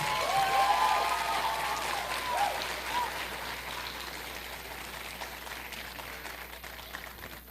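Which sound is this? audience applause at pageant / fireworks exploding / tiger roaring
audience applause at pageant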